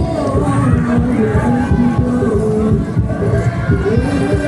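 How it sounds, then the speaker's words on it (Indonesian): Dense crowd noise fills a takbiran parade, with a hubbub of voices and scattered cheering that stays loud and steady throughout. A voice is heard over the crowd. "Tepuk tangan yang meriah untuk remaja Masjid Nurul Hidayah."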